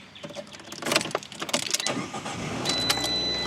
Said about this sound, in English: the next step is going to be to cut the car on